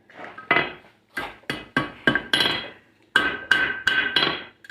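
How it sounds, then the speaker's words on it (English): Hammer blows on a hot steel bar bent over the horn of an anvil while forging a miner's candle holder: about ten sharp, ringing metallic strikes close up, in uneven bursts with short pauses. "So we're going to put it over the horn of our anvil, start our bend here."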